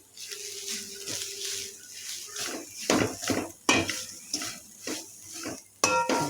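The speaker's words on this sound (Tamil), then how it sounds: "அதை மெதுவாக நல்லா பொன்னிறமாக வர்ற வரையும் நம்ம வதக்கி கொடுக்கணும்" Grated coconut being sautéed in a pan until golden for a sweet flattened-rice cake, heard as steady spatula scraping and clinking of metal cookware, close and irregular, with a faint tonal hum at first.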